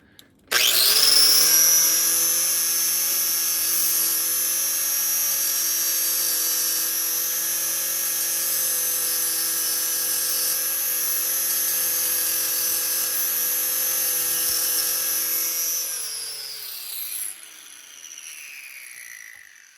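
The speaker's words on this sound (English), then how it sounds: "So I think we gotta grind that off a little bit more" A high-pitched power grinder works on a metal part from a 1948 Schwinn bicycle, whining loud and steady for about sixteen seconds, then spinning down and fading out.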